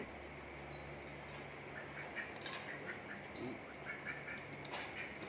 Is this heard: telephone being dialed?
no